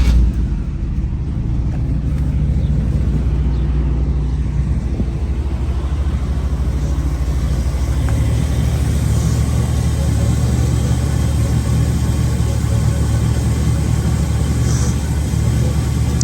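A 1967 Chevrolet Camaro RS V8 engine idles with a smooth, steady low rumble that stays even throughout, close by and without revving.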